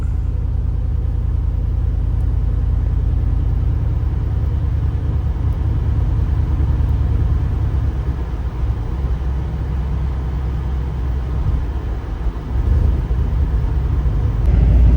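A cammed, naturally aspirated 6.6-liter V8 with headers, swapped into a 2024 GMC 1500 4x4, drones as a deep, steady interior rumble while driving, with a brief dip near the middle and no talk.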